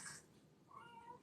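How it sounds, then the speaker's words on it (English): A kitten meows indoors, two or three short close mews in about a second, with no talking over them. "She's meowing in the background."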